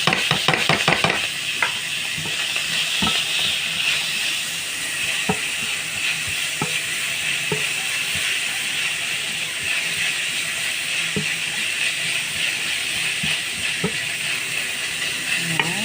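Loud, steady sizzle of minced beef frying in a pan with chopped tomatoes added, with scattered stirring scrapes and clacks throughout and no talking.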